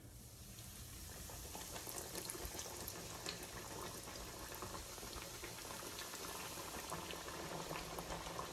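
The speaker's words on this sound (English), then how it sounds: "I'm gonna put this on medium-high heat and just watch it fry, watch it get crispy." Fish fries in a pan with jumbo shrimp over medium-high heat, a steady, fairly quiet sizzle and crackle that continues evenly with no talking.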